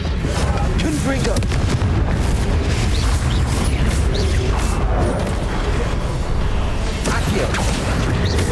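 Confringo explosion spell in Hogwarts Legacy on Switch, a dense continuous barrage of booms and crackling bursts with rumbling battle noise throughout, loud and close, with other spell effects mixed in.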